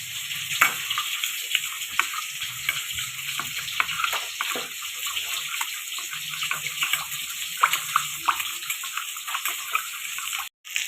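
Pieces of katla fish fry in hot oil in a home kitchen, giving a steady crackling sizzle with scattered pops and small clatters from a utensil. The frying carries on at low to moderate volume, with a faint watery hiss mixed in.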